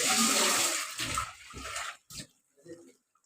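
Thick coconut and lentil paste pours into a cooking pot for a home lunch dish, a close, wet sloshing splash over the first two seconds, then a few soft plops and drips trailing off.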